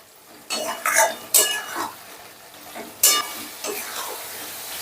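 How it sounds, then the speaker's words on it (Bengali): Soya chunks being stir-fried with spices in a pan, heard as a series of loud metal spatula scrapes and clinks against the pan over a faint sizzle. "সোয়াবিনটাও মশলার সাথে ধরো 2-3 মিনিটের মতন ভালো করে কষে নেব"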